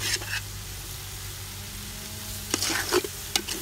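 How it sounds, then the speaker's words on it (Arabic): Eggs stirred into a sizzling chicken and almond filling for pastilla, a steady frying hiss throughout with a few scraping stirs near the start and end. "نبقاو نحركو فيها ضروري"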